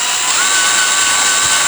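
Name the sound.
drilling slowly through a Shimano hydraulic shifter bleed port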